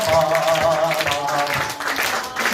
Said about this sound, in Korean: 우리 애들 나올 때까지 박수